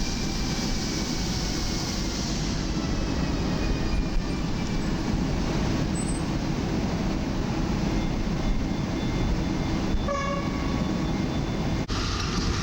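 Train pulling into Warszawa Wschodnia station on a winter day, a steady loud rumble of wheels and running gear with faint squeals and a brief tone near the end.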